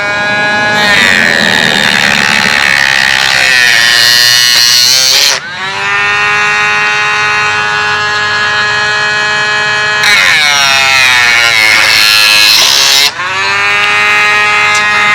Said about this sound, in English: I'm using a Dremel.